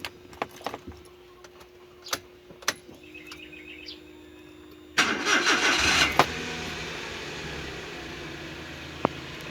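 A Suzuki DA64W is started after a few light clicks and rattles: the starter cranks briefly, then the engine catches and settles into a steady, close idle that runs to the end, with no talking.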